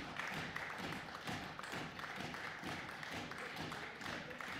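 Applause from the members of a German state parliament (Landtag) after a speech, a dense, steady patter of many hands clapping at even loudness throughout, with no speech over it.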